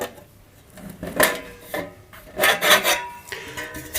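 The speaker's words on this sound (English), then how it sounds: "The first step is remove cover. You should unscrew 8 screws" Screws being removed from the metal cover of an ICEpower1200 amplifier kit, close rasping and scraping bursts with small metallic rattles in two main clusters, no talk.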